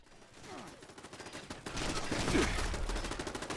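Automated defensive turrets open fire in Fallout 76, a dense run of rapid gunshots that swells from quieter bursts into sustained, loud fusillade with no talk over it.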